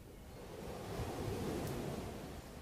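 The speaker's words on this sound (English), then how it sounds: "Listen to the sea. Hopefully you can hear it wherever you are." Sea waves wash in as a soft, continuous broadband rush, fairly distant and gentle, swelling slightly mid-way and then easing, with no voices over it.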